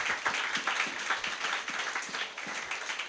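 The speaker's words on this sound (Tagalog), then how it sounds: "pumalakpak sa Panginoon." A church congregation claps during a Sunday worship service, a steady, fairly quiet patter of many hands that keeps going without a break.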